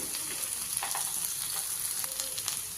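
Onion and cashews frying in a pan of oil give off a steady, close sizzle with faint crackles and occasional stirring scrapes, and no voices are heard.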